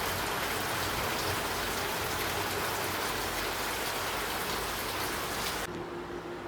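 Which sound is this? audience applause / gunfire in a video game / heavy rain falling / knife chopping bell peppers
heavy rain falling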